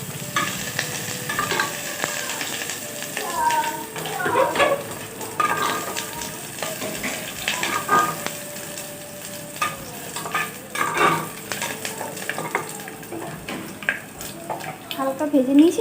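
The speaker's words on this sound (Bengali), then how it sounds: "এটা আমি একটুখানি ভাজবো যতক্ষণ না পর্যন্ত এর কালার চেঞ্জ হয়ে যায়" Chopped onion frying in oil with bay leaf, a busy sizzle broken by repeated scraping stirs against the pan; someone talks over the cooking at times.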